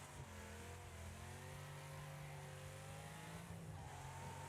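A car engine in the racing game Wreckfest revs steadily in the mid range with other cars droning around it, a continuous faint engine note that rises and falls slightly, with no talk.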